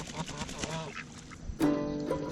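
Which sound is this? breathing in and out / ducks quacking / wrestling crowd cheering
ducks quacking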